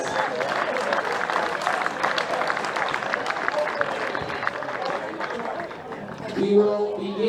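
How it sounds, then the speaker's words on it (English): A crowd at a Sturt vs Goodwood Division 01 grand final applauds the scorers, a steady spread of clapping throughout, with a voice over a loudspeaker breaking in near the end. "so give them a applause for the scorers."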